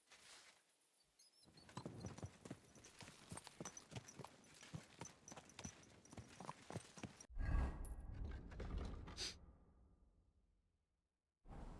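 Horse hooves clip-clop rhythmically on the ground in the video game Kingdom Come Deliverance II, a quiet, steady trotting patter that ends in a louder thump and rumble before fading out.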